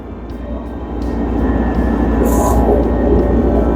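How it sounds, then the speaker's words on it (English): Generator running in a cold shop, a loud, steady low rumble that swells slightly and then holds constant throughout, close to the listener, with no talk over it. "The generator, and I got heat."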